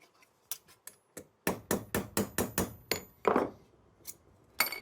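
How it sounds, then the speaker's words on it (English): A short steel rod hammers over the end of a copper incense burner shaft: a dozen sharp metallic taps, first scattered, then a quick even run of strikes, a denser clatter and a final few knocks, close and alone. "I use a little piece of 1/8 inch steel rod to hammer the end of the shaft around."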